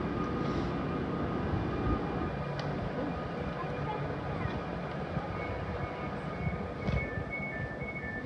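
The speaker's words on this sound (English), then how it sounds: "There goes the 1420 Avanti West Coast service to Wolverhampton, departing" An Avanti West Coast service pulls out of platform 7 at London Euston, a low steady rumble of rolling wagons filling the station hall with a few faint squeals and announcements over it.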